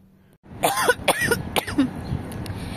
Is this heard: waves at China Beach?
no